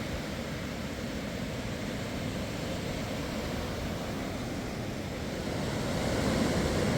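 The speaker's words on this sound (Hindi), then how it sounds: "समुद्र की लहरें ये देखिए आपको खींचने के लिए बेताब है" Sea waves break steadily on the beach at Chakratirth in Puri, Odisha. The roar of surf and wind is continuous and near, and it swells louder toward the end, with no voices.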